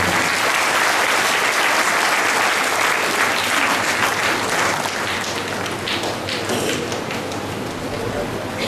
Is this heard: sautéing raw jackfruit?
no